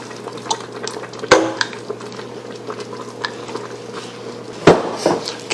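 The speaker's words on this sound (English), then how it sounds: "Give that a good stir" Spoon stirring heavy whipping cream and grated Parmigiano Reggiano into a pot of keto Zuppa Toscana with kale and sausage, giving a few soft scraping, clinking knocks against the pot over a low steady hum, with one sharper clatter near the end.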